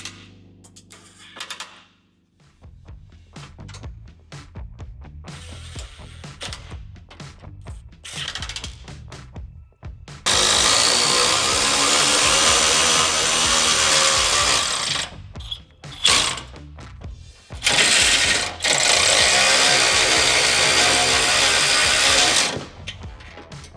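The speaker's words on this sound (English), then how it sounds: "then we'll go ahead and tighten all the bolts down" A ratchet wrench tightens bolts on a Ford Transit engine skid plate, with bursts of quick clicking pawl ratcheting and long loud whirring runs of a power tool, close up with pauses between.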